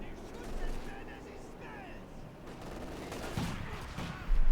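Gunfire in a Company of Heroes 2 battle with T-34 tanks and a Commissar Command Squad under fire: scattered distant shots and bursts under a commentator's voice, with a heavier thump at the end.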